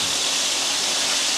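Running water pours steadily into a measuring cup in a kitchen, a close, constant hissing splash with no break for the whole moment.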